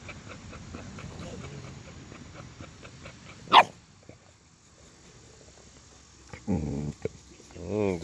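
A poodle dressed in pink barks and growls at close range during rough play, with a sharp bark followed by bursts of growling and snarling.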